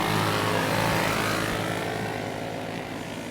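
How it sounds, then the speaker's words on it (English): Clone box stock go-kart engines in a 400-pound super heavy race division give a loud, steady, high-revving drone as a pack of karts passes, fading slightly at the end. "These are clone box stock engines."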